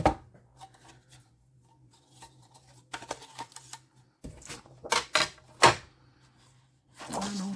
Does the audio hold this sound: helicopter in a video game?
no